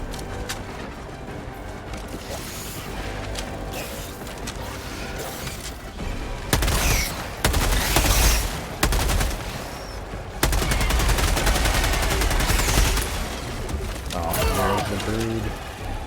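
Dense gunfire and explosions erupt in Helldivers 2 in loud, rapid bursts that grow heavier midway, with speech mixed in.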